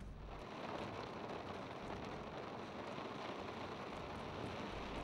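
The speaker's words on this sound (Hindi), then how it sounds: "ठंडी हवा, ऊपर से घनघोर वर्षा" Heavy rain pours down with a cold wind, making a dense, steady hiss that holds constant for the whole stretch. No voices are heard.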